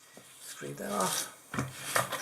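A trowel scrapes excess mortar off a shower floor bed, giving rough rasping strokes in short bursts, with a pause and a second scrape near the end; a voice speaks over part of it.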